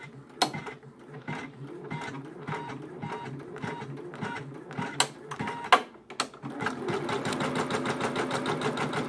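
An embroidery sewing machine stitches a quilt-in-the-hoop appliqué project, running basting stitches as a steady mechanical chatter with sharp clicks and thumps, then settling into a faster, even rhythmic hum toward the end.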